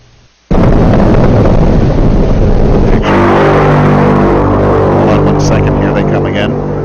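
Seneca Guns, mysterious coastal booms, come through as a sudden loud, deep, sustained roar and rumble that sets in abruptly and keeps going, then a second surge of low rumbling partway through, with faint crackles toward the end.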